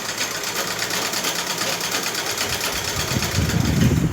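A sewing machine runs steadily as it stitches a waistband onto a petticoat, a continuous close mechanical whir with fine rapid needle pulses, heavier rumble building near the end.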